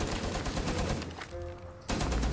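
Rapid automatic gunfire in Rainbow Six Siege, a dense close burst that cuts out for a moment with a brief ringing tail, then resumes just as loud.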